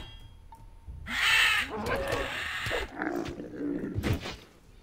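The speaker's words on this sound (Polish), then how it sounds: "te ptaki, no masakra" Birds cawing in Gothic II, harsh crow-like calls rising over a noisy game soundscape, several overlapping caws from about one second onward, moderately loud and fading near the end.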